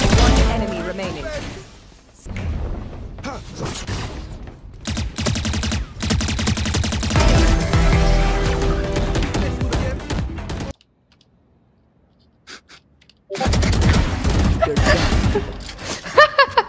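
Bursts of gunfire and sharp shots from the tactical shooter Valorant, loud and dense with game effects, broken by a near-silent gap before the firing resumes.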